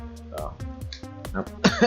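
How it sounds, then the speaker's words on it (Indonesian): A few short, harsh coughs and throat-clearing bursts close to the microphone, with a brief stretch of speech mixed in. "maaf batuk ya guys"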